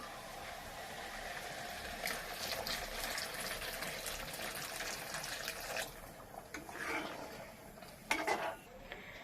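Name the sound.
hot water poured into cooking pot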